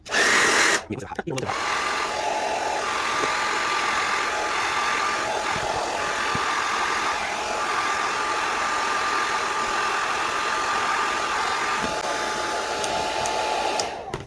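A hair dryer set to high, used to heat and soften a Marvel Legends action figure, blows in a loud, steady, continuous whir close by after a brief handling noise at the start.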